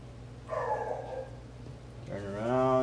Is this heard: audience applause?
no